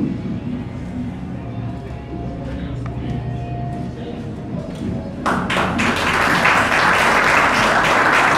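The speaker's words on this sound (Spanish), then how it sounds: "Bien, pero bien fuerte el aplauso entonces." Audience applause at the Arroyitense 2019 award ceremony in Arroyito, starting faint with scattered claps and swelling abruptly into loud, dense clapping after about five seconds that continues to the end.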